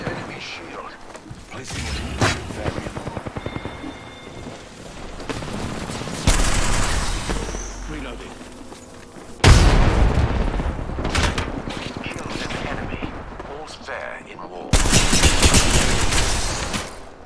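Video game gunfire in a squad battle: bursts of rapid shots and heavy booming blasts come in loud waves, with abrupt surges of noise, close and punchy, and players talk over parts of it.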